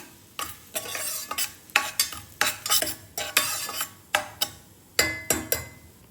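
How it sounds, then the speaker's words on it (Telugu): Cashews fry in ghee for a coconut payasam, a soft steady sizzle broken by about a dozen sharp scrapes and clinks of a spoon stirring against the pan, close and regular, with no talking. "జీడిపప్పును కూడా కొంచెం నెయ్యిలో ఫ్రై చేసుకున్నాం"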